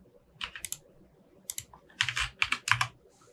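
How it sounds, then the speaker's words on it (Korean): Typing on a computer keyboard comes in quick clustered bursts of close, crisp key clicks separated by short pauses, with no talking. "그래프 노드 쪽에서 타이핑을 칠 수 있어요"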